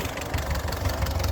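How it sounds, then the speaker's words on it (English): A 1948 Ford 8N tractor with a 12-volt system runs up close, its engine idling with a steady, low, throbbing chug and rhythmic knock, continuous and fairly loud with no voices. "It's a nice running tractor."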